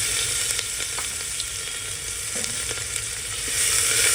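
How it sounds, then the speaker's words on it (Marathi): Chopped onion fries in hot oil over crackled cumin and asafoetida, a dense continuous sizzle with faint pops, close and fairly loud, without any talk. "आता आपण ह्याच्यामध्ये कांदा टाकायचा आहे"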